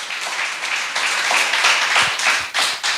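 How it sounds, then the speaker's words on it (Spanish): Church congregation clapping and applauding together after a call to praise, a sustained, fairly loud wash of hands with a few sharper individual claps standing out. "Dale un fuerte aplauso al Señor."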